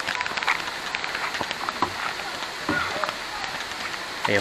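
Steady rain falls on an outdoor surface, a dense broadband patter with scattered louder drops throughout, continuous and fairly close.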